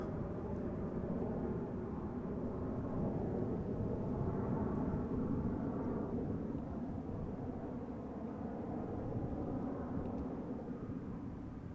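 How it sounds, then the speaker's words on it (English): A KLM Boeing 787-9 Dreamliner arriving at Amsterdam Schiphol Airport gives off a continuous low engine roar that holds steady and fills the whole stretch, with no voices. "It is a Dreamliner 7879 arriving from Cartagena"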